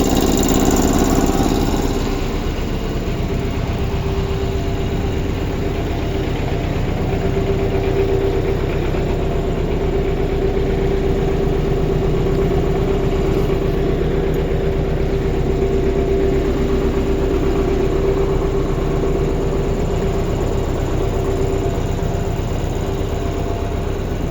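An MTZ 82.1 tractor with a freshly repaired clutch runs steadily after a reluctant cold start, its loud, close, droning engine rumble continuing evenly throughout with no talk.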